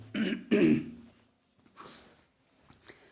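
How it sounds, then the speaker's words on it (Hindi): A few harsh coughs and throat-clearing bursts close to the listener, two strong ones up front followed by weaker ones after a short pause. "खांसी आ गई"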